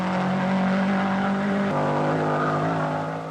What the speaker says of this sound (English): Here's Winterbottom's Fraser Nash passing Buckley's Bristol